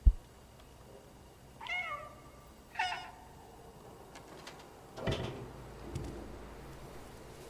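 A stray cat in the video game Stray meows twice in clear, close, rising-and-falling calls, followed by a few soft knocks and a muffled thump, with no talking.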